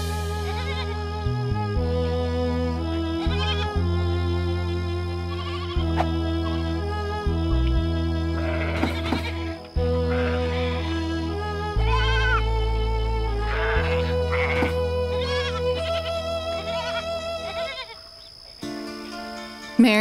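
Frightened sheep in a pen bleat repeatedly in a Christmas cartoon, loud close cries layered over steady background music for the whole stretch, with no speech.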